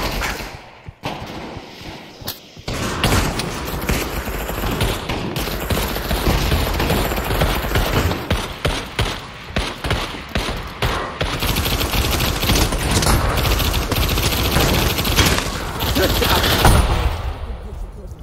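Gunfire from a newly picked-up gun in a video game, dense rapid bursts of shots and explosions rattling almost continuously, loud and close, with game noise throughout.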